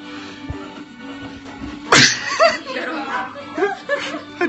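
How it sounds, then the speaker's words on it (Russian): One sharp, loud sneeze bursts out partway through, followed by chuckling and casual talk nearby. "Сейчас чихну."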